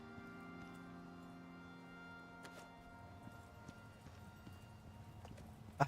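A horse's hooves clip-clop faintly in the survival video game Icarus, a quiet, uneven run of soft hoof taps over a low steady hum, with a slightly sharper knock at the very end.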